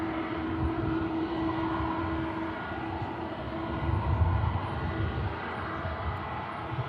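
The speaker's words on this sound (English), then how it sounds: "just re-engaging the engines now is the EasyJet that arrived from Est, finally on the move now" EasyJet jet airliner at Manchester Airport with engines running as it begins to taxi, a steady broadband roar with a low hum, fairly distant and continuous with no talk.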